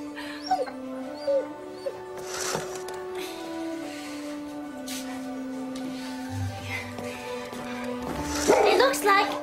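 High, thin whimpering and squeaking cries from a newborn puppy, rising and falling in pitch over a low steady hum, with soft voices nearby.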